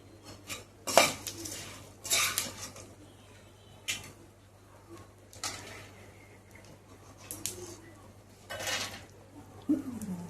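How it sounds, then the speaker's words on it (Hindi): Kheer served from a pot onto a plate: repeated scraping and clinking of a metal spoon against cookware in short bursts, close and moderately quiet, with a faint low hum underneath. "खीर बन गई। अब इसको भी मैं एक प्लेट में निकाल लेती हूँ।"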